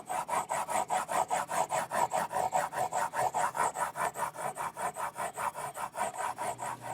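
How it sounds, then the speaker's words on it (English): Guitar frets on a Fesley Telecaster are polished with a 4000 grit eraser, giving a steady back-and-forth rubbing rasp in fast regular strokes, close and clear with no talk. "I'm just going to polish them up with a real high-end eraser. This is 4000 grit."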